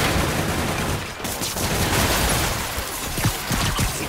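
Enemy gunfire in Spider-Man Remastered rattles in dense, loud bursts, with a sustained fusillade of rapid shots and a brief dip before the barrage resumes.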